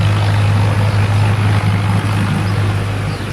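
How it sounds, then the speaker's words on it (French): Tractor engines of farmers working nearby produce a constant loud low drone with a steady rumbling hum throughout, unbroken and with no talk over it. "C'est les fermiers avec leurs tracteurs qui font du bordel pas possible."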